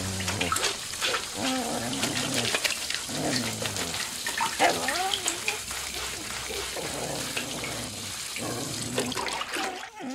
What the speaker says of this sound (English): Back through the water curtain.